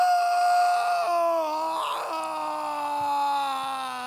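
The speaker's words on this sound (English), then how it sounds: "let's listen to the scream that Zach just sent in" A single recorded scream sound effect plays as a long, strained wailing voice, loud and close, sliding downward in pitch and holding a drawn-out moan for several seconds.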